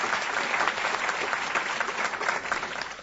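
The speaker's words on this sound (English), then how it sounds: "And for you, Husheng and Saba, yes, we can applaud." Steady applause from an audience at a children's hospital donation event, many hands clapping at once in a dense, continuous patter that holds at an even level throughout.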